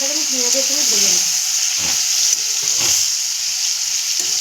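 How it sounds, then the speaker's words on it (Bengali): Chicken pieces frying with onions in a pan give a steady, close sizzling hiss throughout, with a voice talking faintly in the first second and a half. "সুন্দরভাবে মাংসটাকে আমি পেঁয়াজের সঙ্গে ভেজে নেব।"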